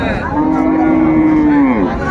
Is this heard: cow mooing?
yes